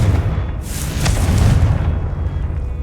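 A loud, booming fire-blast explosion from the Confringo spell in Hogwarts Legacy bursts out at close range and leaves a rumbling roar that fades slowly.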